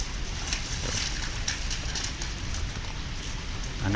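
Steady rain falls with a dense, even hiss and scattered patters, continuous and fairly close, with no voices.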